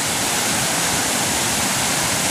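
Floodwater rushes in from farm fields as a steady, loud, broadband roar of moving water, continuous and close, with no talk.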